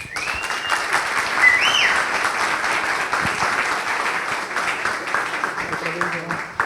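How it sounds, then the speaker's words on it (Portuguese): An audience applauds steadily for several seconds after a software talk, with a few faint voices mixed into the clapping. "uma salva de palmas"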